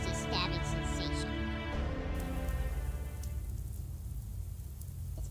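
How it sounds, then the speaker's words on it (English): Cold winter rain beating on a gate's rain gutter, steady dense patter and splashing under a voice talking at first, with the rain continuing alone afterward. "It's begun to rain. Cold winter rain hammers the gate rain gutter."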